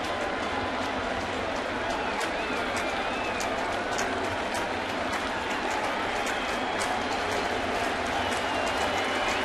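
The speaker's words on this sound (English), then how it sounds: "Crowd's getting into it." Dense, steady roar of a large baseball stadium crowd at a Mets–Yankees game, loud and continuous with scattered claps, whistles and shouts rising above the wash throughout, plus faint commentary-like voices in the mix.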